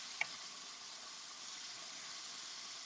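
Mirepoix onions sauté in a hot pot, a soft, even sizzle and hiss holding steady from start to end, with one small click near the beginning and nothing else over it.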